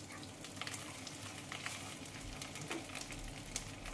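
Garlic and green chillies sizzle in a pan of oil, a soft, even crackle with scattered small pops, fairly faint and with no talking.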